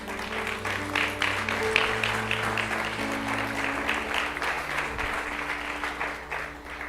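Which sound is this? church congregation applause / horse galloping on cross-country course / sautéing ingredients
church congregation applause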